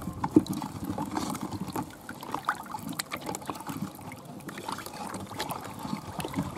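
Cocoa pod ash and plantain peels are poured into a container to make African black soap. A faint, uneven trickle and rustle runs throughout with soft low bumps, quiet and close.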